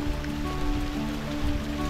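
Steady broadband water noise, a continuous wash of rainwater flowing down the stone steps at the Pandav cave in Dang, close by, with no voices.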